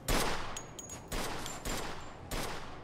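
Gunfire in the video game Mafia II: four sharp shots spaced roughly evenly, each a loud broadband crack with a ringing tail and brief high whines between.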